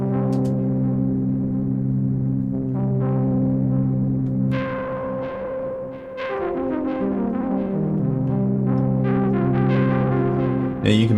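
A droning Novation Peak synthesizer plays shifting notes, each attack trailed by repeating echoes from a delay effect that blend into a thick, layered sound.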